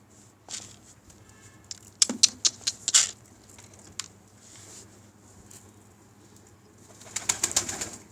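A pet bird shuffles and pecks in its enclosure, giving scattered scratchy taps and rustles with a few soft coo-like notes over a low background hum, with clusters of movement near the middle and the end.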